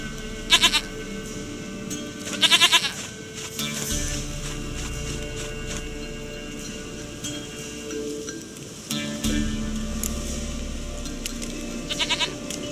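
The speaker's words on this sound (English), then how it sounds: "Goat of mine, dearest, sweetest goat." A goat in The Witcher 3: Wild Hunt gives several short, nasal bleats in separate bursts, close and loud, over a low ambient rumble in the game world.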